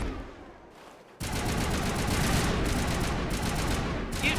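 Gunfire in the Mass Effect video game breaks out suddenly after a quiet moment, then sustained rapid automatic shots and a fusillade continue loud and dense to the end.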